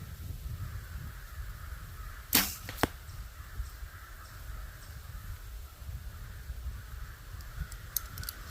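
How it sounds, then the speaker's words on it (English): An arrow loosed from an old archery bow, one sharp snap and whoosh, then a quick second thud. Crows caw faintly in the background of a quiet outdoor setting, and no one speaks. "Alright, let's throw an arrow down here."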